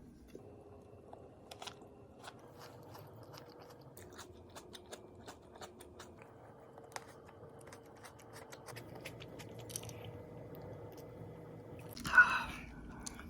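Someone chewing and eating snacks up close, with scattered soft crunches and wet mouth clicks spread across a quiet room, ending in a louder burst of crinkling noise.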